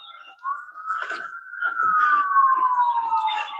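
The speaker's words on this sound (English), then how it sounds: "Sirens are going off." A wailing emergency siren sweeps steadily through the clip, rising and then falling, moderately loud and slightly distant, with faint street noise around it on a spring morning in Georgia.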